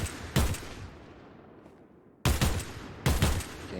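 Gunfire in the Fortnite video game during target practice, three short, sharp bursts of rapid shots separated by quiet gaps.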